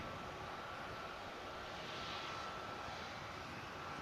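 Ryanair Boeing 737 bound for Bologna departing Manchester Airport, a distant steady jet engine roar that swells slightly midway, heard alone without voices.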